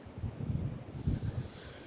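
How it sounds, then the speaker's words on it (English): Low, rumbling wind gusts buffet the microphone in uneven surges, steady and close, with no voices present. "It's a very windy place."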